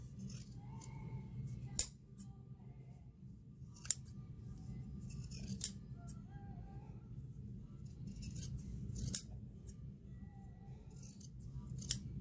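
Scissors trimming bath towel fabric for a hooded towel, sharp metallic snips spaced a couple of seconds apart over a low, steady room hum, close and fairly quiet.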